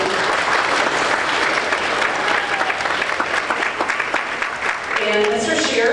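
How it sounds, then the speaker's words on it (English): An audience at a middle school 7th grade band spring concert claps in a dense, sustained round of applause that fills the room, with a voice starting to speak near the end. "We can clap for him, yes."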